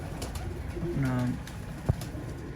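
A single soft coo from a loft pigeon in a Sahiwal pigeon-keeping yard, brief and fairly close, over faint background noise with a voice speaking nearby.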